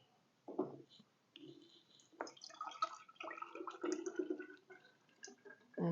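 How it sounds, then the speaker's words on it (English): Freshly made kefir, fermented from powdered goat's milk, poured through a colander and funnel into a jar: irregular liquid splashing and trickling with clinks of utensils and glass, close and moderately quiet, alone without speech. "just pour all that nice new kefir that you have made from the day before"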